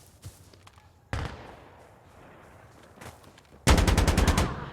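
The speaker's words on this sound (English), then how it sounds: "we'll actually get the wall bang onto Propagandabrot with the AKM" Loud AKM assault-rifle fire in a tactical shooter match, a single sharp shot early, then a dense rapid burst of repeated shots near the end over faint background game noise.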